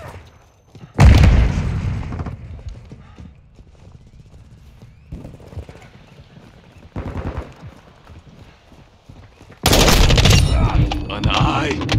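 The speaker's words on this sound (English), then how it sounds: "Grenade!" A grenade blast and bursts of gunfire in Call of Duty Modern Warfare 2 multiplayer: loud booming, crackling volleys in separate bursts with quieter rumbling gaps between them.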